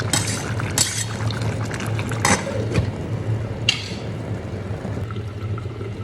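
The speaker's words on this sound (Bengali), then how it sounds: "তারপর একটু জল দিব কারণ চুলাতে লেগে যেতে পারে" Water poured into a pot of beef cooking on a stove, a steady liquid rush with brief clinks of metal, close and fairly loud throughout.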